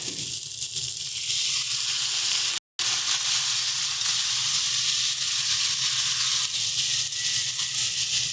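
Flat beans and lentil dumplings sautéing in spices with a little water, a dense, even sizzle and hiss that continues steadily with one brief dropout.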